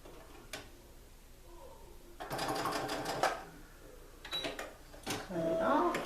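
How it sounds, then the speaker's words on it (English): A sewing machine joins a girl's chiffon skirt to its waistband in several short bursts of rapid, close mechanical stitching, separated by pauses with faint handling noises. "I'm going to go around and sew the skirt to the waistband"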